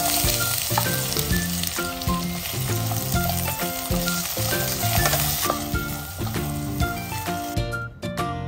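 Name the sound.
sautéing sliced potatoes in hot oil in a pan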